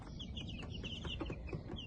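Black and Buff Minorca chickens cluck in a short, busy stretch, several soft bird calls overlapping above a steady low background rumble, with no talking.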